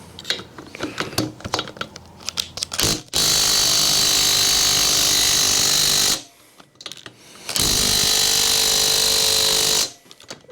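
Brand-new Makita power tool working on the bolts of a never-fired 1968 Harley-Davidson XLCH engine: a few short ratcheting bursts, then two long, loud, steady runs of the motor separated by a brief pause, up close.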